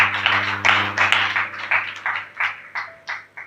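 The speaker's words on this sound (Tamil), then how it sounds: "எல்லாம் ஆண்டவருக்கு ஒரு கைத்தட்டல் கொடுக்கலாமா?" A church congregation claps hands in a brisk, even rhythm, about a dozen crisp claps in a row over a low, steady hum.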